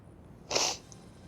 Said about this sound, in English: Oh no, it's gonna sneeze again.